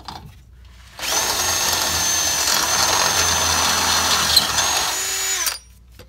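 A power tool whines steadily for several seconds, close and loud, then cuts off. It is a riv nut tool setting a nutsert into a skid plate mount for a Mitsubishi Montero Gen2 2.5 transmission skid plate.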